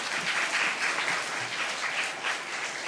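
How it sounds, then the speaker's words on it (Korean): An audience at a church lecture applauds the professor warmly, a brief burst of dense clapping with a slightly rippling rhythm and no voices. "저희들에게 소중한 또 경제적인 미래까지 책임져 주신 교수님께 뜨거운 박수 한번 올리겠습니다."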